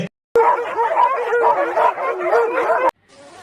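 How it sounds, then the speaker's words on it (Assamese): Several dogs bark and yip in a quick overlapping burst, loud and close, before cutting off abruptly. "মোৰ পাছফালে 99টা কুকুৰ ভুকে"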